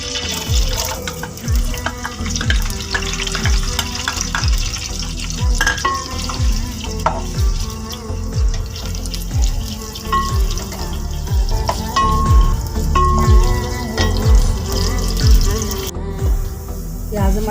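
Two large onions frying in oil in a pan for chana pulao, giving a steady, close sizzle with occasional stirring and scraping throughout, without pause.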